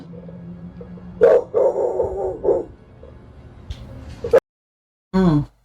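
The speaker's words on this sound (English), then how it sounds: "if that dog is barking" A dog barks several times in short, loud bursts, then yips once more after a brief silence, captured close on a security camera.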